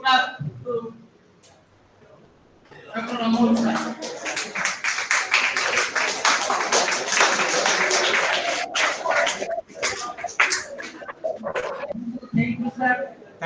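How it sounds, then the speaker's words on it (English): Students at an institution's seminar on entrepreneurship applaud a visiting doctor, with about ten seconds of dense, sustained clapping that starts abruptly after a pause. Brief speech comes before it and returns as the applause tapers off. "Please, all of the students give a very good clap to Dr. Anmol, sir."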